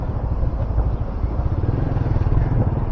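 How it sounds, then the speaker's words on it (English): A motorcycle riding through heavy Nairobi road traffic, with a continuous low engine rumble and drone and a fluttering throb, loud and close, with no voices. "That's traffic. Nairobi."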